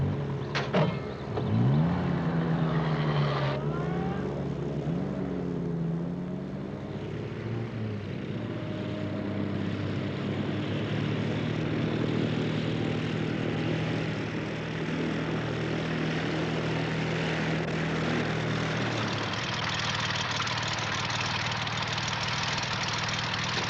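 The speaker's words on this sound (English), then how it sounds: "You're expecting a plane, no?" A propeller airplane approaches with a steady droning engine and shifting pitch, loud and close throughout, with the rumble changing tone near the end as it arrives.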